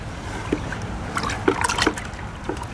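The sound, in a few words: stirring indigo dye vat with long stick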